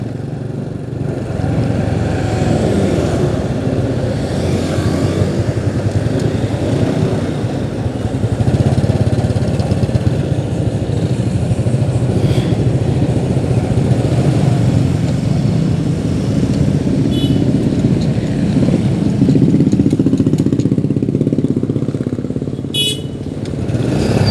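Motorcycle engines idle and rumble together at a red light on a busy main road in Tasikmalaya in the days before Eid, a loud, steady, close mass of traffic engine noise with no pauses.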